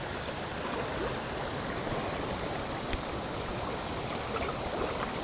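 A summer river suited to nymph fishing flows with a steady, soft rush. The broad, even wash of water is continuous and moderately distant, with no voices.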